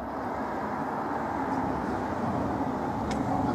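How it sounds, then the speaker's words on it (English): A car approaches along a road from far off, a faint, steady roadway hum that builds slightly over a few seconds with no talk. "We just heard the car approaching from miles back."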